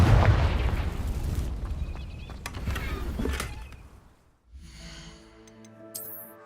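A Confringo spell explosion in the Hogwarts Legacy video game, a loud blast with crackling debris at the start that fades away, followed by quieter chiming magical tones.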